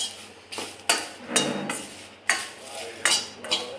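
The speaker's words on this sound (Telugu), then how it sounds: "అలా వెల్లుల్లిపై పొట్టుని వేపుకుంటూ ఉండాలి" Garlic peels being roasted dry in a pan until they turn black, heard as a series of about seven distinct metallic scraping strokes of a spoon against the pan, close and fairly crisp, with quiet gaps between.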